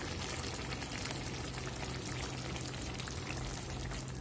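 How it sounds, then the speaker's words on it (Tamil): Curd is poured over freshly cooked Madras-style aviyal, giving a soft, continuous wet pouring and trickling sound, close and faint, steady throughout with no speech. "நம்ம மேலே வந்து இந்த தயிரை ஊற்றிடலாம்"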